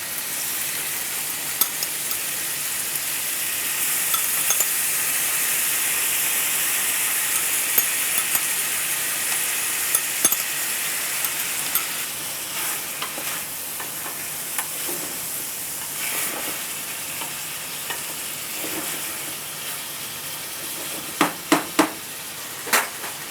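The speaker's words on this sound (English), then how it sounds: "adding chopped tomato." Chopped tomato sizzles in a hot pan for a spicy Omani chicken and rice dish, a steady hiss of frying with occasional scraping clicks from stirring, close and continuous.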